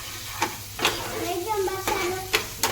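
Onion stirred into a mixture in a pan while cooking a healthy roti roll lunch for kids, with a steady background sizzle and a few sharp spoon scrapes and taps against the pan.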